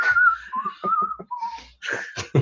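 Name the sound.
whistled theme from The Good, the Bad and the Ugly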